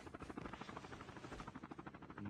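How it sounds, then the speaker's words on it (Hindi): A helicopter circles in a Call of Duty Mobile match, its rotor thumping steadily in a rapid pulse. The sound is faint, distant and continuous, with no talk over it. "हेलीकॉप्टर जा रहा है हेलीकॉप्टर"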